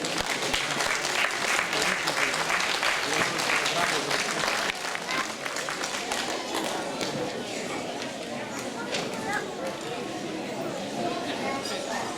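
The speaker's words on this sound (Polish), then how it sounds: "Wielkie brawa oczywiście." Audience applauding award winners at a town competition prize ceremony, loud dense clapping for about five seconds that thins to lighter claps under murmured chatter.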